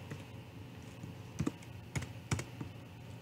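Typing on a computer keyboard, a few soft, scattered key clicks close by over a quiet background, brief and irregular.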